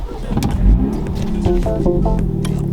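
A car engine with its exhaust valve open runs loud and close, a deep rumbling idle rising into brief revs, rough and throaty with no voices over it.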